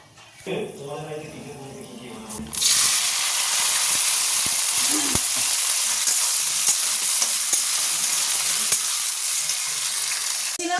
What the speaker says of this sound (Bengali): এই যে তেলের মধ্যে গরম মশলা একটু ফোড়ন দিয়ে নিয়েছি, এবার এই কেটে রাখা সব সবজিগুলো দিয়ে দেবো।